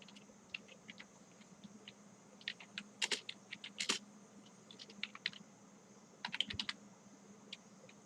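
Typing HTML code on a computer keyboard, a soft, irregular run of close key clicks in short bursts with a few louder taps, over a faint steady hum.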